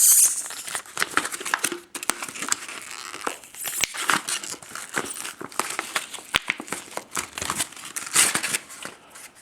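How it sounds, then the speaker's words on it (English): A Mylar storage pouch is torn open by hand, giving a stretch of crisp, crinkling and ripping plastic sounds in irregular bursts, close and fairly loud, with no talking. "I left these little tear notches in the Mylar pouch so it'd be easier to tear them open."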